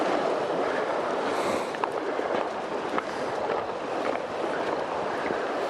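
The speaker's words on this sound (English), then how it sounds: "Waves on the shore." Waves washing against a lake shore in wilderness, a steady broadband rush with gusts of wind buffeting the microphone, no voices.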